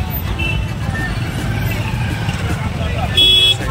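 Heavy street traffic at a busy festival market, with engines rumbling and car horns tooting, including a clear honk near the end, while people talk nearby.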